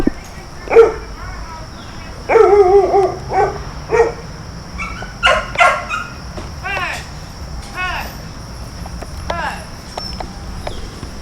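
A dog barks in repeated bursts outdoors during a rescue of a chained, starving dog. Some barks come singly and some in quick clusters, over a steady insect-like hiss in the background.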